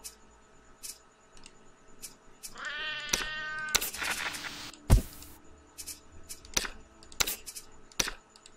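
In the shelter game Sheltered, a cat lets out a single meow midway, set among regular ticking clicks and sharp chopping knocks.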